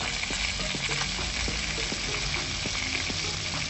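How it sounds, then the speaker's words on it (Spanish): Chicken pieces browning in a hot pan, sizzling and frying steadily with a dense, even crackle and no talk. "Como ya se está dorando mi pollo, le voy a poner salsita pimienta."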